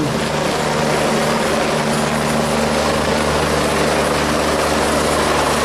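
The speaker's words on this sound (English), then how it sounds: "We'll let the helicopter land." Helicopter landing nearby at a school emergency drill, its rotor and turbine roar loud, close and unbroken throughout, with no talking audible over it.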